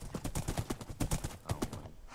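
Horse hooves clip-clop in a quick, even rhythm in the video game Minecraft, a moderately loud synthetic trot that goes on with no pause.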